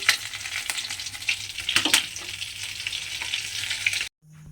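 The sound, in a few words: egg balls frying in oil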